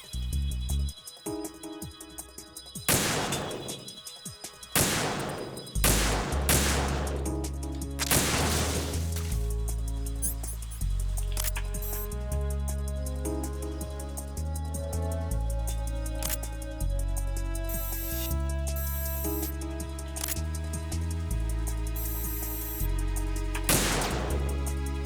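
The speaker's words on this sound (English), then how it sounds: "I'll provide support fire from here." Sniper support gunfire in Metal Gear Solid 2, heard as several sharp, loud broadband shots spaced irregularly across the stretch, over a steady game music bed.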